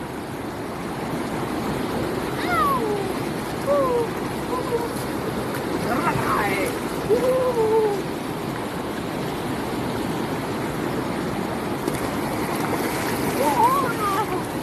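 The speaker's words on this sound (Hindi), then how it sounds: "पानी तेज हो गया, जल्दी कर।" Fast-flowing river water rushes steadily at the Gaula barrage near Kathgodam in the hills, a constant close wash with faint higher calls or voices drifting over it.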